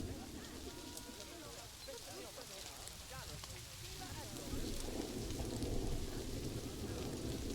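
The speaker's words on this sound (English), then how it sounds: "There's a thunderstorm coming." Thunderstorm in the zoo-building game Planet Zoo, steady hissing rain with a low rolling rumble that swells toward the end, moderate and continuous under faint talk.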